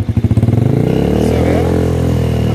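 Motorcycle engine starts with a slow, thumping idle, then revs climb and hold steady as the clutch is gradually released to pull away, heard close up during a first-time riding lesson.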